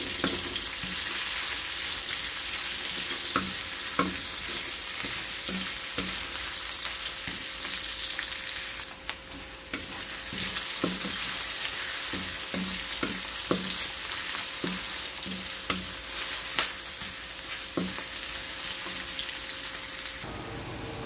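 Garlic and spices sautéing in a pan for ginataang kalabasa at sitaw with shrimp, a steady soft sizzle with occasional light stirring taps, quiet and close with no voices.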